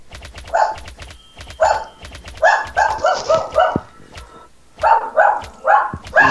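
A dog barks in repeated clusters of sharp yelps, fairly close and loud, with brief pauses between bursts, during gameplay of The Stomping Land.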